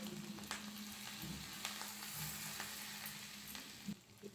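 Ground spices for butter chicken frying low in a pan, a steady soft sizzle with faint scraping stirs now and then, no voices.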